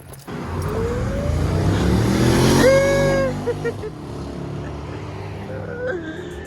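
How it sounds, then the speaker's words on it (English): A BMW M3 engine revs up, its exhaust note climbing sharply in pitch to a loud whine before dropping back to a rumbling idle. "I gotta hear that exhaust."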